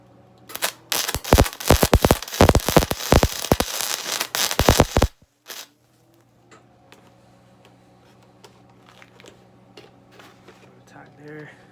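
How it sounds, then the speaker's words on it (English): Crackling, sputtering bursts of a welder tacking a steel body grip trap stand, a dense run of sharp pops for about five seconds, then a brief final spit and quiet shop hum with faint clicks. "Now all we're going to do is we're going to tack it first, top and bottom, and then we're going to complete the weld on it."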